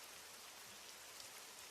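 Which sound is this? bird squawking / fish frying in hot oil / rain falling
rain falling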